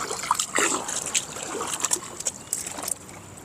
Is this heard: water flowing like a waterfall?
yes